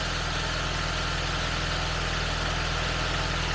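A Hyundai car engine idles steadily during a battery and charging-system test, a close, even low rumble with a regular pulsing throb that holds constant throughout, no talking.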